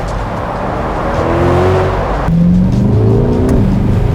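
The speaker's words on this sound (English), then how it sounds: "it's just so rewarding to flick up and down the gears with that 8-speed dual clutch gearbox" A Corvette C8 V8 engine roars loudly under acceleration with its 8-speed dual-clutch gearbox, rising pitch broken by a sharp gear shift midway, then climbing again, heard close from on board.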